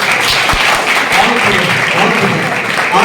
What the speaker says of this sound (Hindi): एक बार जोरदार ताली बजाओगे